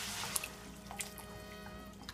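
Water pours into beef enchilada sauce in a pan, a brief, soft trickle with a few small drips and splashes up close.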